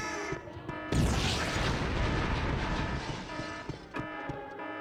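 A grenade blast in the video game Ghost in the Shell: Stand Alone Complex hits suddenly as a loud, broad boom that rumbles on for several seconds before cutting off, over faint game background.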